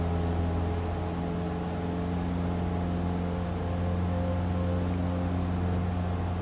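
Steady droning engine of an RV-14 light aircraft in Microsoft Flight Simulator, a constant loud hum with strong low tones that holds without change throughout.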